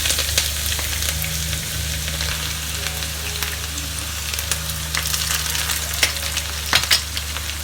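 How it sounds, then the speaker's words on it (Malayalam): Shallots fry in hot oil as a tempering for a Kerala tomato curry. Close, crackling sizzle holds steady throughout, with occasional sharper pops and spatters, and no talking. "കുറച്ച് ചെറിയുള്ളിയും കൂടി വറുക്കണം."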